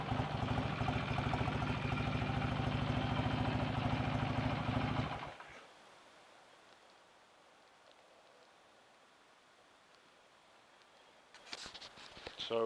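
BSA A65 T motorcycle with its rebuilt twin-cylinder engine running steadily and loudly for about five seconds before it cuts off, leaving near silence, then a brief clatter at the end.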